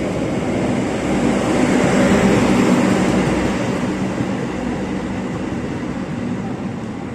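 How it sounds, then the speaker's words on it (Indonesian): A long-distance passenger train, the additional Sembrani service from Gambir to Surabaya Pasar Turi, rumbles steadily past at Manggarai station, a loud continuous roar that slowly fades. "Kereta api Sembrani tambahan dari Gambir tujuan Surabaya Pasar Turi"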